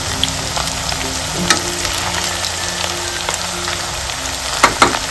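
Cauliflower florets frying over a low flame for gobi manchurian, a steady soft sizzle of oil with occasional spits and pops, close and alone without any talk.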